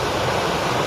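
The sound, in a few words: water gushing from breached Tungabhadra left bank canal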